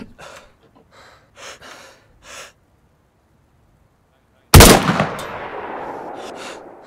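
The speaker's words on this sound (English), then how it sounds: "What gun is that, man? It sounds so good." A single loud SKS rifle shot in the video game DayZ, a sharp crack with a lingering echoing tail, following quiet breathy voice sounds.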